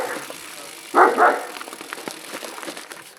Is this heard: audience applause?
no